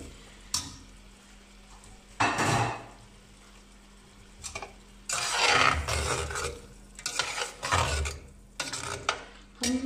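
Prawns for biryani frying in a pot, with intermittent scraping stirs and bursts of sizzle, quiet low hum between strokes, close by and without voices.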